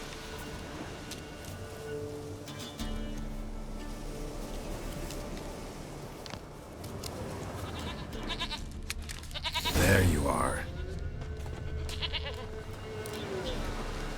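A goat bleats once, loud and close, amid rainy outdoor ambience and soft music in The Witcher 3: Wild Hunt; someone speaks briefly before it.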